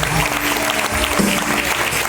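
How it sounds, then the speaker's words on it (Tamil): Brief, loud clapping from a congregation inside a church during a fifth-year anniversary service, with a voice speaking over the applause. "நல்ல கைத்தட்டி உங்க ஆலயத்துல"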